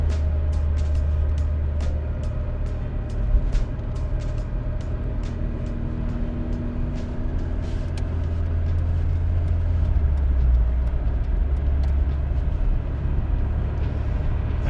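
From inside a Volvo 240 rolling downhill at night and gathering speed, a steady engine and road drone rumbles on, with faint ticks and rattles scattered over it.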